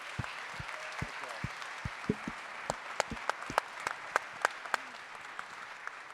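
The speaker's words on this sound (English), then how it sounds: "Can we give a round of applause for our chapter leaders, please?" Audience applause for chapter leaders at the opening ceremony of a bleeding disorders conference in Atlanta, a dense wash of clapping with sharp, louder individual claps standing out near the microphone.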